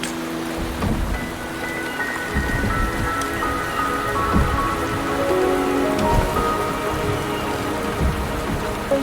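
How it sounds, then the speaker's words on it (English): Steady rain falls in a Wuthering Waves game scene, a dense continuous patter of drops on surfaces with faint low rumbling beneath, fairly loud and without any talking. "The rain is subsiding,"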